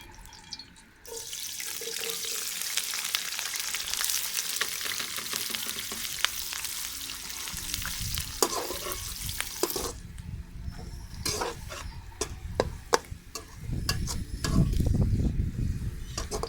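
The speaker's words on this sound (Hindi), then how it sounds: "सबसे पहले घी शामिल करके प्याज ब्राउन करेंगे।" Onions fry in ghee in a steady, close sizzle while being stirred, with scraping and clinking of the utensil and water-like bubbling toward the end, and no talk.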